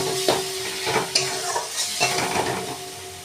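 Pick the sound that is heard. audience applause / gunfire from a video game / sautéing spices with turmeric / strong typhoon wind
sautéing spices with turmeric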